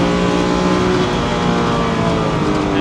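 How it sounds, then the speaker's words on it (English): A Lancia Stratos engine revving hard toward the rev limit on a hot lap at Castle Combe circuit, a loud, sustained, close-up roar with strong harmonics and no break. "Let it drift out to the curbs, take it up to the rev limit."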